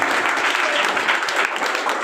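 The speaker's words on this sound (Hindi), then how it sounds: "चलिए, बहुत बहुत एक बार और ताली बजा दीजिए।" Another round of crowd clapping at a ceremony honouring matriculation students, a continuous dense patter of many hands, fairly loud and even from start to finish.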